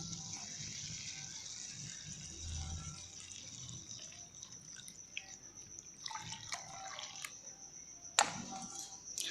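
Boiled lemon-peel water poured and stirred into a homemade detergent mix, giving faint splashing and dripping with a few clinks of a container over a soft background hiss.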